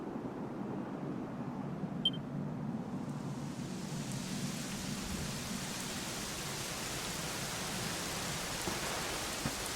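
Soft, steady rain hisses continuously in the background of the video game Dragon Quest XI, even and faint, with no voices.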